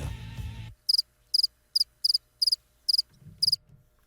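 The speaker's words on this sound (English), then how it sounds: "And there's the cricket sound" Crickets chirp in a rapid run of about eight short, bright pulsed bursts, evenly spaced and clear, following a brief low voice at the start, with faint low murmuring near the end.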